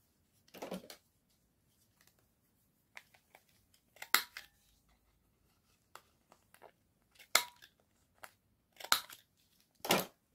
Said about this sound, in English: You just cut a bit more off your card and around your corners again.